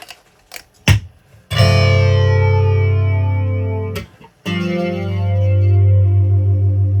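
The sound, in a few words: 1980 MXR Flanger MX-117 pedal flanging effect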